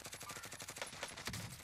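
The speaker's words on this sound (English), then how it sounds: "that kid's shooting somebody" Rapid automatic gunfire in a Warzone match from a SCAR-H style rifle, a fast even burst of around a dozen sharp shots at moderate distance, ending with a heavier thump, no voices over it.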